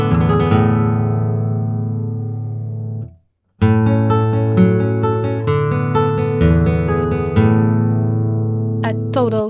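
A classical guitar plays arpeggios with no left-hand damping, so the notes ring over one another into a dense wash of harmonies, close and loud, with one short silent break before it resumes.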